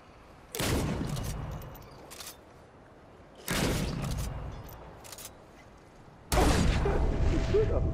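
Three loud, separate gunshots ring out from a weapon in the video game Remnant 2, spaced roughly three seconds apart, each a sharp blast with a rumbling decay; the last one is the heaviest.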